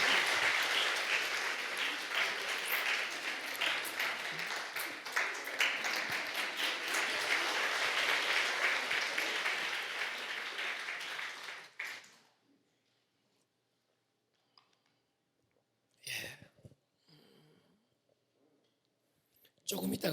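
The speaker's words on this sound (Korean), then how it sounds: "박수 한번 쳐주세요" A church congregation breaks into loud, sustained clapping that fills the room for about twelve seconds, then stops abruptly, leaving near-silence broken by a few faint scattered sounds and a brief noise at the very end.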